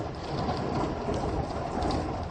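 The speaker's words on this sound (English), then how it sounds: "Rain coming down about an inch a minute or an inch an hour." Heavy rain pours down steadily on a stormy North Dakota night, a dense, continuous hiss of falling water close by with no break.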